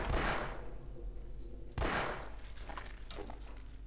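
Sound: gunfire from the video game Half-Life

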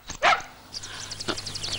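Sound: dog barking

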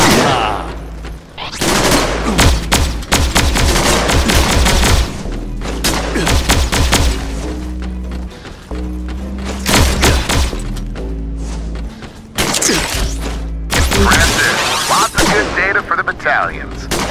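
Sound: gunfire in video game G.I. Joe: Operation Blackout

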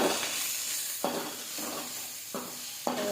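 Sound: stirring gongura flower chutney with salt in pan

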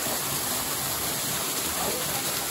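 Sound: waterfall at Sokobanja, Serbia

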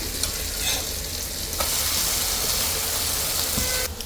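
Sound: food frying in a pan, being turned over

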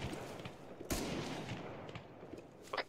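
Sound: gunshots in the video game Arma (Antistasi)

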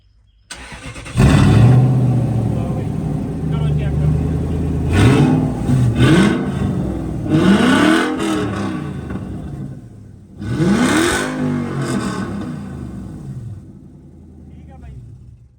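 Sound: car engine revving with special exhaust

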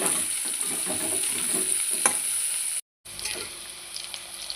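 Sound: potatoes and onions frying in pan

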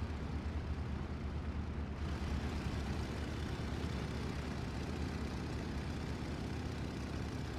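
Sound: P-47 fighter bomber aircraft engine in a video game

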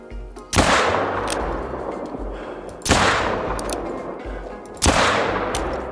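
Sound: rifle gunshots in video game theHunter: Call of the Wild

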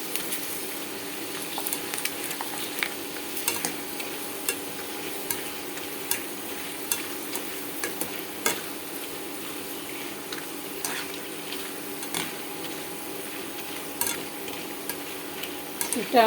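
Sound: chips frying in hot oil

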